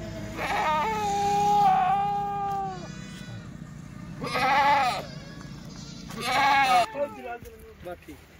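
Kathiawadi goats bleat at a goat sale, three long wavering cries close by with pauses between them, over a low background murmur and faint talk.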